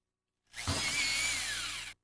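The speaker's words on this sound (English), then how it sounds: "Drilling." An electric drill whirs for about a second and a half at steady high speed, starting and stopping abruptly, close and alone.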